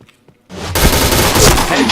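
A video game shooter erupts into loud, sustained gunfire after a brief quiet moment, with dense rapid shots filling the rest of the moment.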